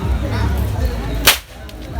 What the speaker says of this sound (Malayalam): വെക്കടാ വെടി ആകാശത്തേക്ക്